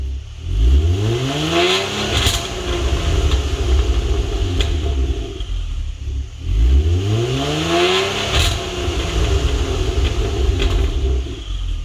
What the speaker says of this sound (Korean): 가변오프시 배기음이 조용하고 가변온시 소리가 확연하게 커지죠